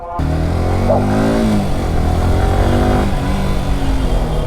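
A motorcycle engine revs loudly and close, its pitch climbing and falling in repeated throttle bursts with no talking over it.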